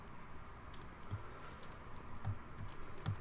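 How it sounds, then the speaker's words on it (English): Computer keyboard keys pressed while modeling in Fusion 360, a few faint, soft clicks scattered at irregular intervals over a quiet background hum. "I'm going to hit the E key on the keyboard for extrude"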